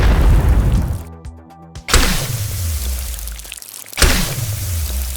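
Slow-motion attack impacts in a video game, two deep booming hits with long low rumbling decays and a brief eerie pause between them, loud and close, with no talking.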